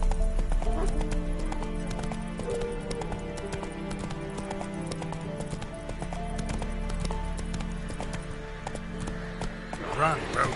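Roach the horse galloping in The Witcher 3, rapid rhythmic hoofbeats pounding steadily and close, with a whinny near the end and a voice talking over it.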